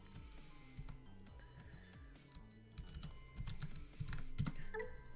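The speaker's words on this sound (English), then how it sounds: "Typing in Gao would make it faster." Quiet, rapid clicking of fingers typing on a computer keyboard continues throughout at a low level, with faint steady tones in the background.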